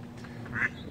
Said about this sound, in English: ducks are awesome